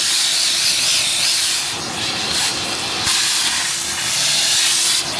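Steady rushing hiss of strong suction from a Giraffe Tools wall-mounted garage vacuum running continuously, close and loud, with slight swells in intensity and no talking.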